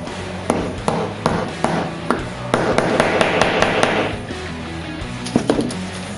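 Hammer blows drive a nail into a part between two cables on a Dodge GTX V8 car build, sharp metallic strikes spaced about half a second apart, loud and close, with a brief burst of rapid hits in the middle.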